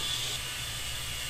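A tire inflator pumps a tire to 36 PSI with a steady, even hiss of air flowing, loud and continuous from start to end, with no voices.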